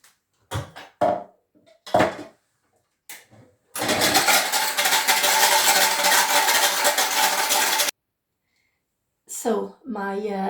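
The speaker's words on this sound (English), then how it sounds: "I have here 30 grams of reduced aquafaba that I'm gonna whisk till stiff peaks." Reduced aquafaba being whisked to stiff peaks with an electric mixer: a loud, steady whirring buzz lasting about four seconds that cuts off abruptly, framed by brief bits of speech before and after.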